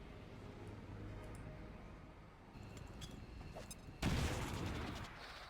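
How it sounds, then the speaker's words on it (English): A grenade explodes in XCOM 2: Long War of the Chosen, a sudden loud broadband blast that booms and rumbles over steady game background ambience, following quieter battlefield sounds. "There's the grenade."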